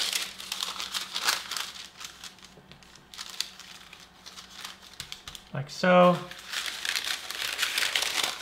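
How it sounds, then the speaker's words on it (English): Parchment paper crinkling and folding around homemade puff pastry dough, soft rustles through the clip with a louder crumpling burst near the end, under brief speech. "Put another layer of parchment paper down."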